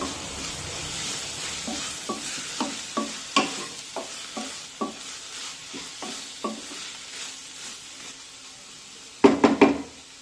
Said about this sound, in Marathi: ही भाजी थोडीशी खालीवर करून घेऊया